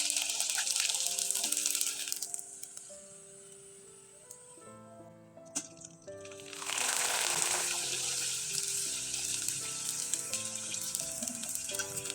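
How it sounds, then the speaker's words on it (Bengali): Flour pitha frying in hot oil: a loud, continuous hiss and sizzle that dips briefly midway, then surges back as more dough hits the oil, with a faint tonal hum underneath and no talk. "আমি একইভাবে কয়েকটা পিঠা আপনাদের ভেজে দেখিয়ে দিচ্ছি"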